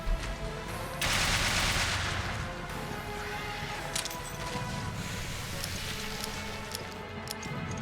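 Loud, sustained gunfire from a Magnum in the video game Resident Evil Revelations starts with a sharp crack and swells into a dense roaring burst, followed by fainter scattered reports.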